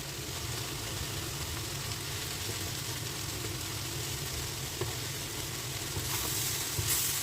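Shredded bitter gourd and flaked fish fry in a pan with a steady, dense sizzle that stays even throughout, with a few faint scrapes of stirring.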